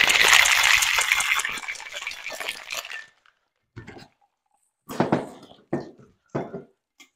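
A cocktail shaker of strawberry lemonade rattles hard for about three seconds, ice clattering continuously, then a few short separate knocks and clinks follow.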